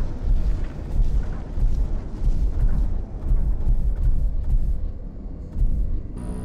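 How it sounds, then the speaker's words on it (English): Fireworks in the War of the Worlds multiplayer survival horror game give rapid rolling booms and crackling bursts, loud and dense for several seconds with short pauses, with no speech. "Gotta get those fireworks."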